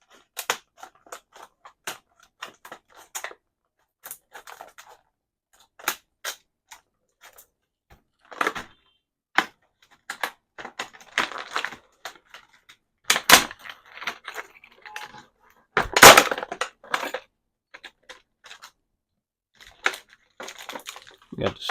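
A standard door knob package being cut open, heard as scattered close, sharp snips, crinkles and plastic clicks separated by quiet gaps, with a few louder crunches near the middle.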